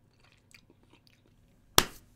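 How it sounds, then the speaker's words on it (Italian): Chewing on hard salami, a few soft faint bites and mouth sounds followed by one loud sharp crunch near the end, no talking. "Ah mamma che ci metto tre ore a masticare."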